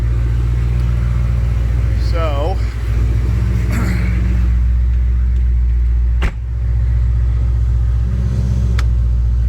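A turbocharged 2000 Corvette engine idles with a steady low rumble, while someone talks over it and a few clicks and knocks sound.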